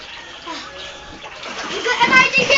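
A child splashing in shallow water, light sloshing and splatters building toward the end, with children's voices talking over the splashing.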